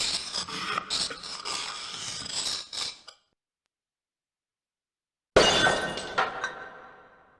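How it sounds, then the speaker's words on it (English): A toy urn is smashed to pieces in the Discworld Noir video game. A loud shatter of breaking crockery is followed by silence, then a second crashing burst of scattering shards that fades out. "I smashed the toy urn into tiny pieces, and inside was the golden sword."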